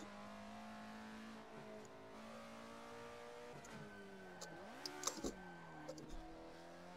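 A race car engine in Assetto Corsa drones steadily, then its pitch dips and climbs in quick heel-and-toe blips, with faint clicking underneath.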